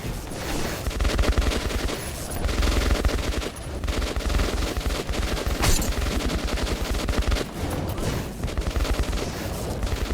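Rapid machine-gun bursts and overlapping gunshots fill a Metro 2033 Redux firefight, dense and loud throughout, with no talking.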